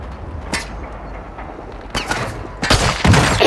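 Video game gunfire arrives as sharp, loud reports, first in scattered single shots and then in dense rapid volleys that build toward the end, close and in the foreground with no talking.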